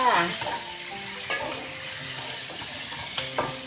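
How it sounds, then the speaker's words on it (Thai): Onion and other ingredients for braised oxtail being stir-fried in a pan, a steady sizzle with scraping stir strokes and clinks of a utensil throughout, close and moderately loud. "แล้วเราก็ผัดไปนะคะ ผัดให้หอมค่ะ"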